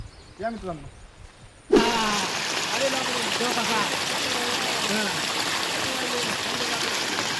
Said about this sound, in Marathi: तुम्ही बघू शकता की आमच्या गावात किती नदीला पाणी आलेलं आहे